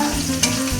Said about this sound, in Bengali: আলুটা ভাজা হচ্ছে